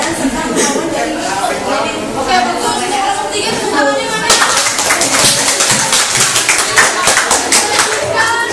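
A classroom group of students at a Jakarta junior high claps hands together, a brisk dense burst of claps starting midway, following chatter and a teacher's voice.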